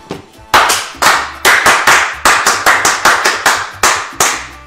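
A single person clapping sharply and close by, about fifteen crisp hand claps in a fairly steady but slightly uneven rhythm, with no talk over them.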